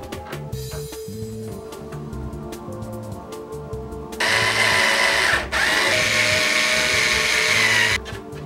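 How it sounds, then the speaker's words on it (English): A power drill runs in a loud whirring burst, pauses briefly, then whirs again while drilling mounting holes in a drawer for 3D-printed drawer stops, after some quieter handling sounds, close by with no talk. "I'll carefully measure and drill the holes for mounting the draw stops"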